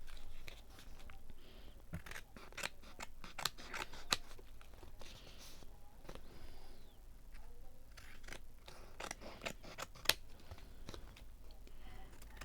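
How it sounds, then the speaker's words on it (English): Scissors snip and trim a handmade collage paper tag, giving a string of close, crisp cuts spread irregularly over a soft, steady room background. "Right, let's trim this one down so you can see it finished."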